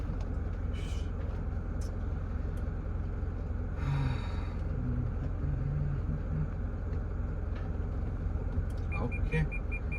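A 2015 Mitsubishi Pajero Sport reverses with its engine running, giving a steady low rumble throughout, with brief voices and a few small clicks over it.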